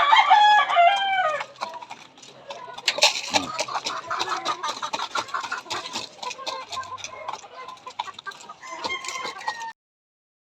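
Chickens and roosters at feeding time on a backyard farm, loud clucking and repeated crowing close by, dense and continuous with scattered pecking and rustling throughout.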